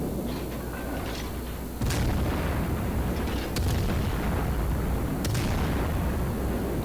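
Naval guns fire in the World of Warships video game, deep booming blasts at irregular intervals over a constant, dense rumble of battle background noise.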